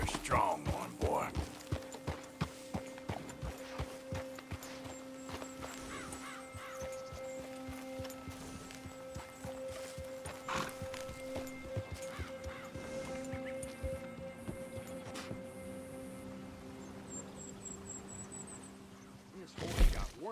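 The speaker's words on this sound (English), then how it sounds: "This horse got worms or something." A horse in Red Dead Redemption 2 plods along with soft, irregular hoof steps and snorts under a low hum of game ambience, with a brief louder neigh near the end.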